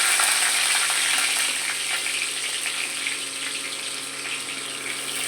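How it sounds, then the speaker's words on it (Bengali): Nigella seeds and green chillies sizzling in hot oil for an arum root curry, a loud, close, bright crackle that eases slightly over time, with no voices. "গরম তেল, তার মধ্যে কালো জিরে ফোড়ন দিয়ে দিলাম, কাঁচা লঙ্কা দিয়ে দিলাম"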